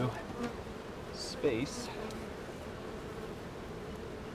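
Honey bees buzz steadily around an open beehive on a farm, a constant droning hum with a few louder passes close by.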